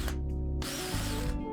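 A power drill bores 3.5 mm holes into a Nova aluminium handle rail, a close, loud whirring motor that shifts pitch partway through as the bit bites and then runs on steadily.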